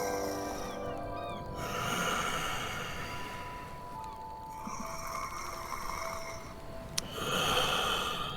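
A voice imitates a dragon's heavy breathing deep in tunnels: slow, drawn-out rasping inhales and exhales with snorting texture, fairly quiet and close, repeating in long cycles with no words.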